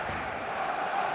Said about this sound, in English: There's a real expectant buzz in the stadium